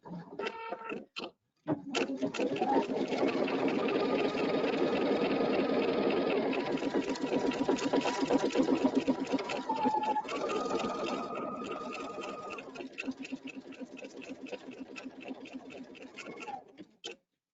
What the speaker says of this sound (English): to stitch out the placement line for the cupcake base